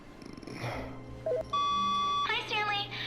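A phone rings in The Stanley Parable, a clear electronic ringtone with a bright tonal trill cutting in after a short beep, over a low steady hum with a voice talking near the start.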